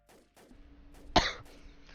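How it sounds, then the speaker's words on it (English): A single sharp cough lands close on an unmuted microphone during a tower defense game session, a short loud burst standing out against faint background game sounds. "I accidentally unmuted before my last cough."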